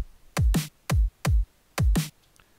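A simple programmed drum loop in Fruity Loops: punchy, booming kicks with deep pitch-dropping tails alternate with snappier snare hits. Five or six loud, dry hits in an even pattern, with nothing playing in between.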